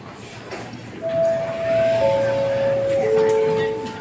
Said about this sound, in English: Train doors opening.